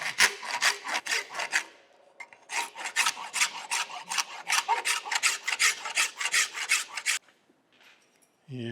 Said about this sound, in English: I'm just gonna take a rasp file. This is like a horseshoer's rasp. It cuts this Babbitt, which is fairly soft metal, very quickly on the rasp side.